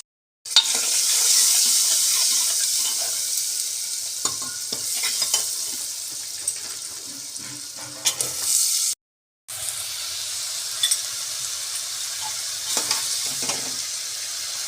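Dry basic spices fry in a pan while being stirred: a steady, close sizzle with scraping stir strokes, broken by one brief pause.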